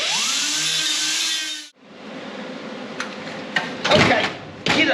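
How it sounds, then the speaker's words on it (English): A grinder whines steadily for under two seconds while grinding an excess bolt head down on a Camaro, then stops, followed by scattered clanks and knocks of workshop handling. "Take a grinder, grind the extra head down"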